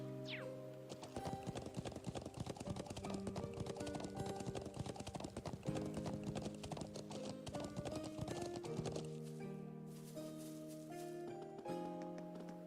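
Horse hooves clip-clop in a steady walking rhythm in the Trails of Cold Steel video game, set against prominent background music that carries through the whole stretch.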